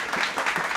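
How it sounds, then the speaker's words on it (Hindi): A seminar audience claps for a temple leader, a brief, fairly soft burst of applause with uneven pulses and no speech over it. "तो उनके लिए जोरदार तालियां हो जाएं।"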